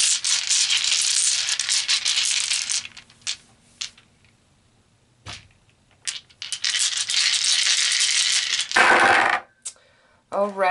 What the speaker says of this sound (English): so let's pull some tarot dice